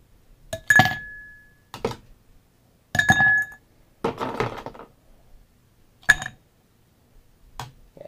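Glassware clinks and knocks sharply while a cocktail is readied for shaking and straining, scattered bright impacts with quiet gaps between them, close by and with no talking.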